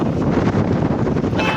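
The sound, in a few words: strong wind at Saputara hill station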